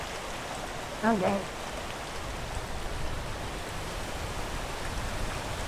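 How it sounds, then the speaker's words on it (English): Steady rain falls in a video game, a constant hiss of drops on surfaces that runs unbroken throughout, while someone briefly speaks a single word early on over it. "well, it's raining"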